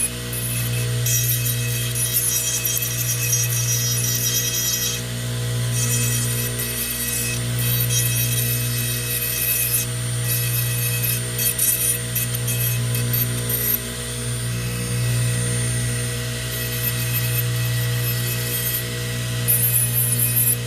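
A rotary tool whines steadily as it smooths the acrylic of a flipper partial denture, a constant high motor hum with light grinding and rubbing that shifts in brief pulses as the piece is worked, close up.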